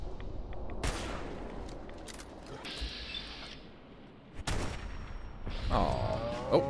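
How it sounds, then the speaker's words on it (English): Hunting rifle fire at a radstag doe in Fallout: a few sharp, widely spaced shots crack out, mixed with mechanical clicks and creaks of the weapon between them. "I guess perfect time for a hunting rifle."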